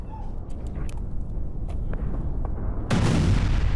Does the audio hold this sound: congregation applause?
no